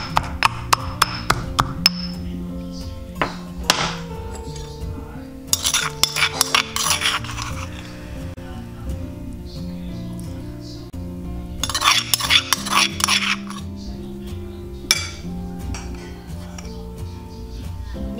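Coriander and chicken stock pounded in a mortar, giving sharp clinking pestle strikes in quick bursts, some rapid runs and some isolated hits, with ringing metallic tones and no talk.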